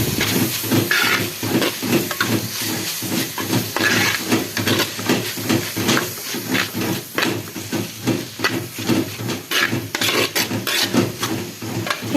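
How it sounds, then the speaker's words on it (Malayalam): Onions sautéing in a pan while being stirred for a home-style chicken roast, giving a steady close hiss with repeated scraping, stirring strokes throughout. "വഴറ്റാൻ വെച്ച ഉള്ളിയെല്ലാം ഒന്ന് ഇളക്കിയിട്ട് കൊടുക്കണം"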